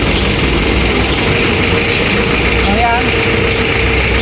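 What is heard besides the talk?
car air conditioning compressor running after magnetic clutch relay replacement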